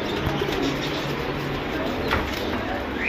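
Domestic flying pigeons coo softly amid a dense, noisy background, their low murmuring calls blending into a constant hiss, in Lahore.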